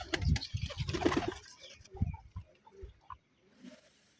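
Pigeons kept by a breeder coo in low, soft throaty bursts, a few calls close by then fading into quiet background with faint rustle.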